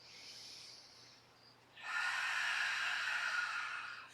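Audible belly breathing during a yoga core exercise: a single long, breathy exhale, close and steady, following a quieter stretch of softer breath.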